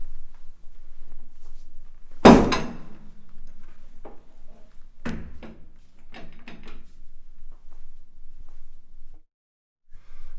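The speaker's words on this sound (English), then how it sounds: "I'm going to shut the door." The door of a Talus MB-H crawler is shut with one loud, sharp bang, followed a few seconds later by a second heavier thud and some scattered light clicks.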